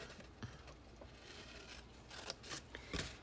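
Scissors snip through a box's folded material to cut three flaps along the bottom, a few short crisp cuts with faint scraping, close and otherwise quiet.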